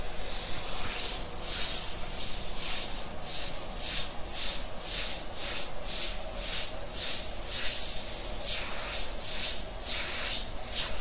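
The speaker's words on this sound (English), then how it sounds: "these are Omni 3000 airbrushes by Thayer and Chandler" A Thayer and Chandler Omni 3000 airbrush sprays in a run of short, repeated hissing bursts, about one per second, close and fairly loud, with no talking.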